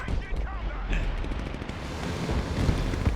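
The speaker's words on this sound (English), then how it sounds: "Oh god, cruise missiles." Heavy rumbling blasts of a cruise missile strike in the video game Broken Arrow, a dense, sustained roar of explosions and artillery-like booms with a voice speaking briefly near the start.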